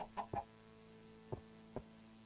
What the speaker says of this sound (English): But I get startled by a chicken.